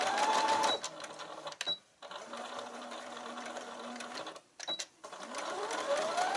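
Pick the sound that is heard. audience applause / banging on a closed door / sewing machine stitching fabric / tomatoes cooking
sewing machine stitching fabric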